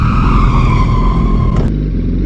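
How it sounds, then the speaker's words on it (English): A motorcycle's rear tire screeching in a long, loud skid under hard rear braking, a steady tonal squeal that cuts off abruptly after about a second and a half, over engine rumble. "Let me show you what a heavy rear brake application looks like."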